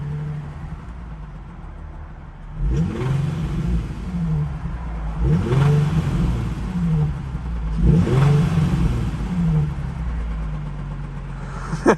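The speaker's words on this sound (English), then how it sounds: "just rev it up real quick" The engine of an abandoned car, found in the woods, idles with a low rumble and then gets revved three times in quick succession, each surge swelling and falling back, close and loud.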